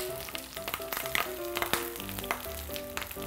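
Pork belly cooking skin side down in a frying pan, a steady sizzle and crackle of frying fat running throughout at close range, with scattered sharper pops over soft background music and no speech.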